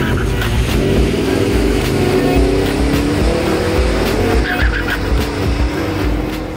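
A Ford F-150 pickup's engine roars steadily as it launches hard at a drag strip, revs climbing and shifting, with a hint of tire scrub over constant rumbling noise.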